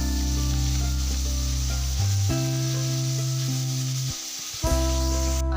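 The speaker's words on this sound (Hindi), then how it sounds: "इसके बाद हमने इसके अंदर टमाटर का पेस्ट डाल लेना है और उसको भी गरम कर देना है।" Tomato paste frying in a hot pan while cooking bhuna kofta, a steady sizzle with stirring beneath sustained tonal background music.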